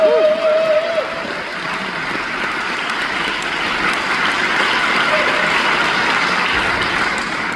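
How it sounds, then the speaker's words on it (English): Applause from an audience during an onstage conversation with a musician, a dense, steady wash of clapping holding at an even level throughout after a brief tonal sound at the start. "Round of applause, Julie!"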